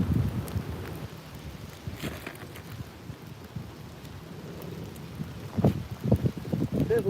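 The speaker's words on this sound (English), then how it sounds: "Definitely getting a little bit of rain right now." Rain patters steadily outdoors at a Chicago harbor while someone fishes for salmon and trout, a broad continuous hiss with heavier gusty bursts near the end.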